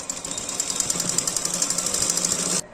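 A sewing machine stitches a designer blouse in a fast, even mechanical rattle, close and loud, running steadily before stopping abruptly near the end.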